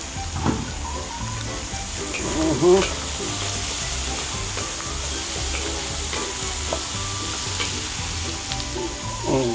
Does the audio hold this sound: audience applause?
no